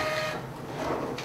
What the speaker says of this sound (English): It should print your IP address and model settings.